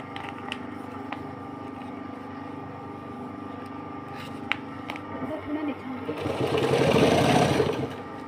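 A sewing machine stitches a strip onto a fabric purse, a steady, close mechanical whir running throughout that swells louder and rougher in the last couple of seconds.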